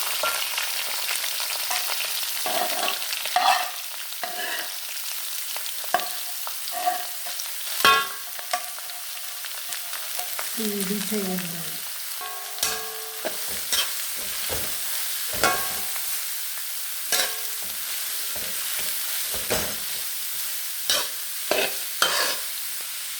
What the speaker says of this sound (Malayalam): നമ്മൾ അരിഞ്ഞ് വെച്ച കാബേജ് ചീര എല്ലാം കൂടി മിക്സ് ചെയ്താണ് കിട്ടുന്നത്.